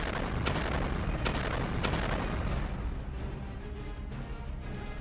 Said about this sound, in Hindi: जैसे ही ये मिसाइल जहाज के आगे के हिस्से पर लगती है, वैसे ही उसमें जोरदार धमाका होता है